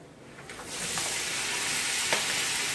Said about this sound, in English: add all the prawns that you have, I have taken around 600 grams of prawns to add in it completely.